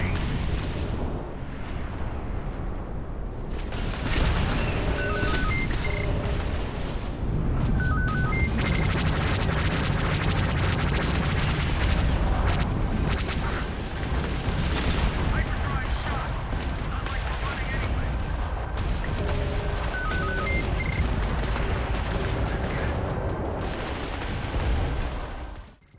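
Spaceship weapons fire in a Starfield space battle aboard a Firespray Gunship, a loud, dense barrage of rapid blasts and explosions that runs almost continuously, with repeating tonal zaps throughout.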